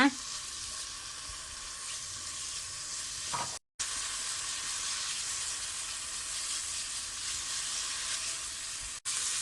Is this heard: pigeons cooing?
no